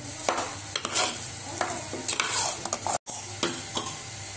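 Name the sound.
stirring cooked dal and jaggery in a pot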